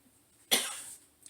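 A single sharp cough set off by Baker's Joy baking spray while greasing a cake pan, one loud burst fading over half a second, with a faint trailing sound after.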